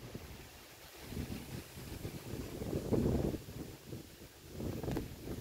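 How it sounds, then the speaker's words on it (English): Strong gusts buffet the microphone, rumbling and swelling in uneven waves over a constant windy hiss outdoors. "It's very windy out right now."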